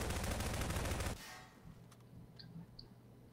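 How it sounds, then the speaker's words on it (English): Gunfire in the video game Prop Hunt: a loud, dense burst of rapid shots lasting about a second, then cutting off to quiet background with a few faint ticks. "Shoot him! Shoot his ass!"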